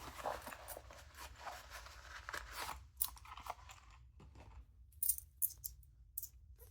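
A few coins from a change envelope are handled up close, a soft rustle of paper and fingers followed by sparse, light metallic clinks near the end, quiet and with no talking.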